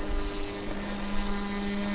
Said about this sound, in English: it seems maybe the Blue Wonder motor is a bit overstressed